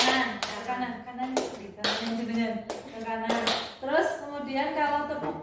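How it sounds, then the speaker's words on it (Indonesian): Sharp hand claps in a classroom clapping game, coming in short separated bursts between a teacher's spoken instructions. "Nah, kita akan melakukan tepuk lagi, tapi itu sedikit berbeda."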